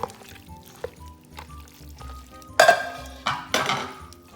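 Sausage and broccoli rabe mixture poured into a pan and stirred, with soft scraping, a wet slide and a couple of louder spoon-and-pan clatters near the end.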